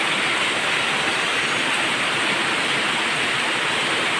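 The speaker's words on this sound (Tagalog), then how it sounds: "Kusog kayong ulan oh." Heavy rain pours steadily and loudly in a dense, unbroken hiss during a flood with high water, with no other sounds standing out.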